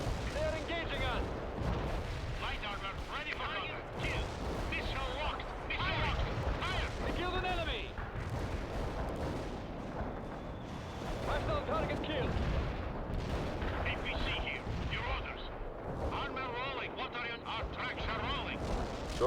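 Battle in the strategy game World in Conflict: missile launches and dense gunfire with artillery-like booms rumble continuously, loud and layered, while radio-style voices speak over the din.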